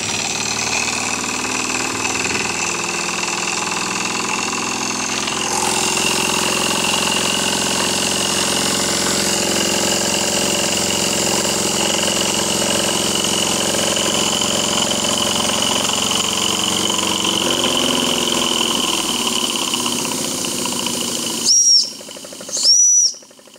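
A Jensen 5 model steam engine runs with its safety valve lifting, giving a steady, loud hiss of escaping steam over the engine's continuous drone, then it cuts off abruptly, leaving two short whistling bursts near the end.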